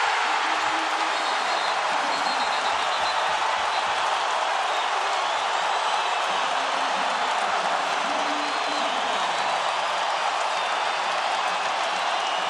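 Roaring crowd of about 19,000 on their feet in a college basketball arena at Gonzaga vs BYU, a dense sustained wall of cheering and applause after a three-pointer, loud throughout.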